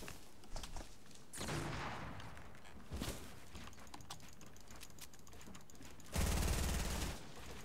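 Gunfire in the video game Fortnite, with rapid bursts of shots and sharp single cracks alongside clicking keyboard-like taps. A louder, heavier burst comes near the end, and the overall level is fairly faint.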